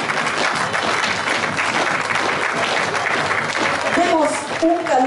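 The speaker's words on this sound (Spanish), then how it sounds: "Un caluroso aplauso" Outdoor crowd at an Independence Day parade in Tecamachalco breaks into sustained applause, broad and steady, while a voice over the loudspeaker starts speaking near the end.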